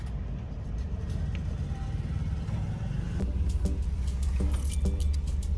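Nairobi bypass traffic in a jam rumbles low and steady, with engines idling and revving nearby and a jangle of keys or small rattles inside the vehicle, no talk.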